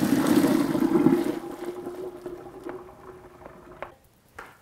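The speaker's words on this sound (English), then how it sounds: "I've boiled the green beans for about 2 minutes, so I'm going to drain them through a colander." Boiled green beans being poured from a pot into a colander in a kitchen: a loud, close rush of pouring water and splashing that tapers off into drips and a few light clinks, with no talking.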